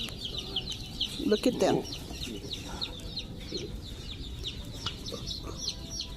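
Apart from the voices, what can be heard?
chickens clucking at Tractor Supply store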